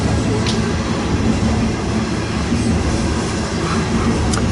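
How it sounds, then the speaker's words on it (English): A loaded BNSF coal train heading east at the Ashland, Nebraska junction rumbles past close by, a steady loud roar of rolling cars with a low hum and faint metallic squeals, continuous with no talk. "The train right now is on the Heartland Division."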